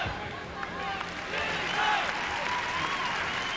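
An arena crowd at a men's team gymnastics final cheers and claps, a busy roar of applause and whistles with a commentator talking over it.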